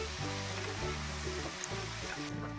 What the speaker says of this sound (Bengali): আমি এখানে দুটো বড় সাইজের পেঁয়াজ দিয়েছি কিন্তু দিয়ে ভালো করে একটু ভাজা ভাজা করে নিচ্ছি